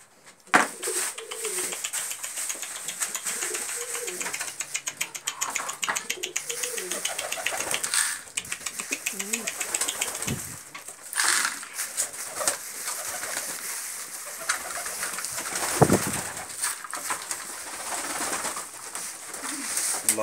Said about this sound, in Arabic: عطيو الحمام ياكل.